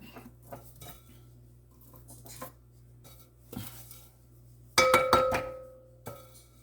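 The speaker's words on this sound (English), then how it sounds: "You got to keep mixing until you don't hit the sugar." Butter and sugar are mixed for pound cake batter, heard as intermittent scraping and clinking of a utensil against a bowl, with a louder burst of clattering strokes near the end.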